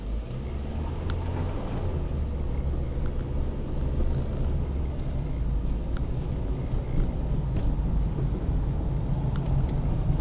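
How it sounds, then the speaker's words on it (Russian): A car engine rumbles steadily under acceleration during a driving lesson, a continuous low droning hum with road noise heard from inside the cabin and no voices. "Разгоняй машину."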